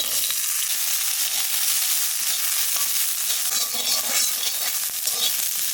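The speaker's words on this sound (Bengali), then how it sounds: "আহানে ভাজবো কাঁচা লঙ্কা" Green chillies fry in a pan, giving a steady, bright sizzle and crackle that stays even and close throughout with no talking.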